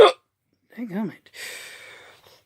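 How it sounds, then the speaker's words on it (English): A person with hiccups gives a sharp hiccup right at the start, then speaks and breathes briefly in a quiet room, with one more faint hiccup-like catch near the end. "Sorry, I got the hiccups, guys."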